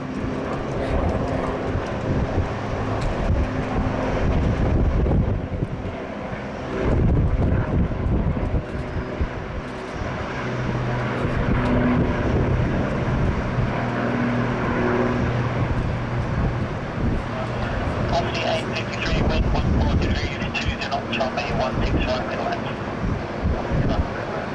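Deep, continuous jet rumble from a heavy airliner taking off at Sydney Airport, loud and sustained with surging swells, wind noise and occasional talk mixed underneath.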